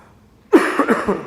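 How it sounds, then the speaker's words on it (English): A single loud, close cough bursts out, rough and breathy, with no talk around it. "I'm fighting a little cough here"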